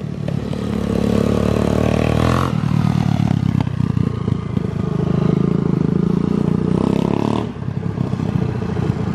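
A 200cc pit bike with a new cylinder runs on its first test ride, its engine droning loudly and close with rising and falling revs, brief drops and some clatter.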